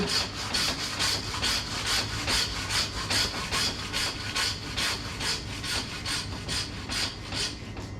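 A hand saw rasps back and forth through beef bone on a tomahawk steak in a steady, even rhythm of close strokes, with no voices.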